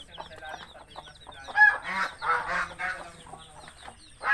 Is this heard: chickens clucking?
yes